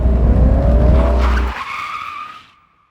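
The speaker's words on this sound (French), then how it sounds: "bientôt remplacé par le crissement des pneus fumant sur l'asphalte" A car's tires screech on asphalt over a roaring engine for about a second and a half, then a fading, smoky squeal trails off into silence.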